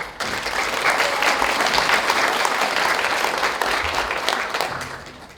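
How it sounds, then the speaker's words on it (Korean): An audience at a reconstruction versus remodeling meeting in a district office hall in Daejeon breaks into loud, sustained applause that fades out at the end. "잠시 호명만 하면 좀 박수만 부탁드리겠습니다"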